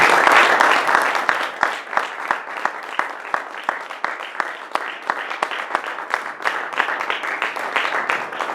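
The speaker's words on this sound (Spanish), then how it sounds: "denle el aplauso más fuerte que le hayan dado a Jesús" A church congregation claps loudly during a Spanish-language worship service, with dense applause and sharp individual claps standing out in an irregular rhythm, tapering slightly over time.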